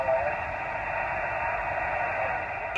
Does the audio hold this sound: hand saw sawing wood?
no